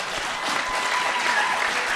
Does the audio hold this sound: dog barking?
no